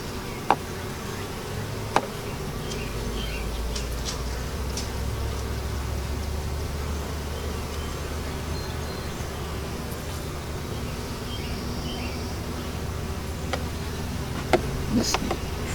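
Honey bees buzzing inside an Apimaye hive, a steady low drone of many insects close by, with a few soft clicks and knocks from the hive frames.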